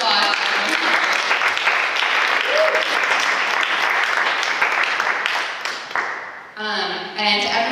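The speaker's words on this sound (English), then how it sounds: "So let's give everyone another round of applause." A school audience at a storytelling event claps for its speakers, dense enthusiastic applause that holds steady for several seconds, then thins out as a voice starts speaking near the end.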